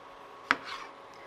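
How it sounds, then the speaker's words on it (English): Kitchen knife slicing diagonally through multicolored tomatoes on a board, a single close, crisp chop followed by a soft slide of the blade, quiet with no talk. "I like to cut diagonally"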